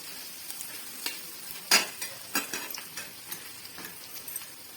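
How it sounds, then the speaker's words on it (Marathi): Chopped onion being roasted in a pan, heard as a low, gentle sizzle broken by irregular scraping clicks of a spoon stirring, with one sharper clatter, quiet and close, with no speech. "हा आपला कांदा खूप आपल्याला भाजायचा नाहीये, थोडासा भाजून घ्यायचा आहे"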